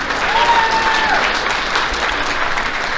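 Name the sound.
audience applause for the boys golf team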